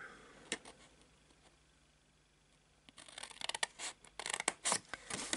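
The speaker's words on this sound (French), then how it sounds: "Et en bas, sur la hauteur de 4 cm, on coupe chaque pli horizontal, vertical jusqu'au pli horizontal." Scissors snip through folded paper while a gift box is cut out, with a faint single cut early, quiet handling, then a close, irregular run of sharp snips and rustles toward the end.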